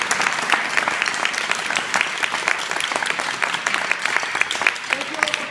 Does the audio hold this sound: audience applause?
yes